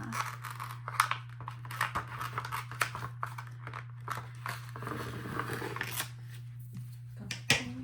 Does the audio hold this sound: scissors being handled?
yes